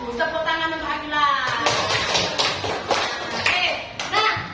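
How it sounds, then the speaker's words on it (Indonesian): Children in a classroom clap for a classmate, a quick ragged patter of claps that follows a teacher's voice and continues with scattered taps. "Tepuk tangan untuk Akila."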